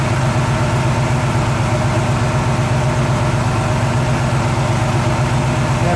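A Chevy 350 V8 idles steadily while its lifters are adjusted with the engine running, a loud, even low rumble with a constant mechanical chatter and no pauses.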